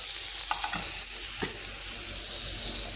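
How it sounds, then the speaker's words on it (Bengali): Chopped onion and chili frying in a pan for a bhorta, a loud, steady hiss of sizzling oil with a few brief scrapes of stirring, close up. "এখানে পেঁয়াজ মরিচটা দিয়ে দিচ্ছি একটু লাড়া তাড়া দিয়ে নেই"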